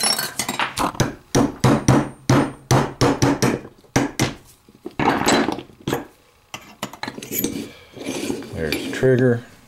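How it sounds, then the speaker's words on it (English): Sharp, close metallic hammer taps drive pins out of a Chicopee rifle build, coming in uneven bursts of strikes with brief pauses and some clinking of parts. "let me go ahead and knock these pins out too"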